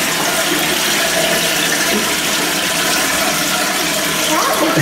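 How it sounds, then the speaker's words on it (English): A Peerless toilet flushes in a cinema restroom at a mall, a loud, steady rush of swirling water close by that fills the whole stretch without letup. "All right, flush it, let's see it."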